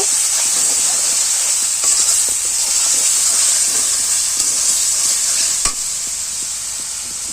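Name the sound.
spices with sugar being stir-fried for chickpea ghugni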